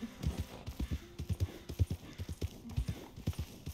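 Horse hooves clip-clop steadily at a walking pace in the Red Dead Redemption 2 video game, a regular close rhythmic patter of thuds with faint ambient background.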